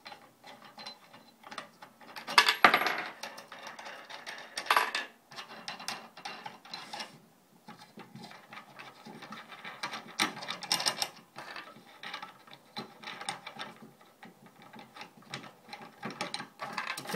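Wing nuts being spun off the threaded rods of a book press that converts to a sewing frame, giving close, faint metallic ratcheting and clicking turns in irregular bursts with brief pauses and no talk.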